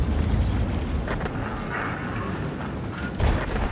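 A tank hit by a shot in World of Tanks, heard as a muffled heavy boom with rumbling impact, then a second thud near the end, moderately quiet.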